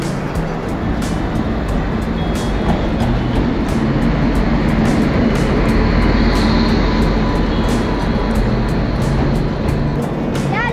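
A train arrives at a station platform in Saharanpur, a loud, continuous rumble of rolling wagons with rhythmic clicks from wheels over rail joints, steady throughout with no talking.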